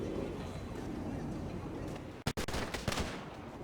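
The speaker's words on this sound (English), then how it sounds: "Shots fired, shots fired." Video game gunfire during a GTA FiveM roleplay, sharp loud shots in a quick burst over a dense, continuous roar of game background noise.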